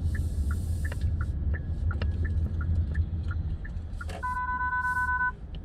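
A car's collision warning sounds a rapid string of short electronic beeps while driving, followed by a longer, sustained two-tone alert, over a constant low road and engine rumble inside the cabin; no talking.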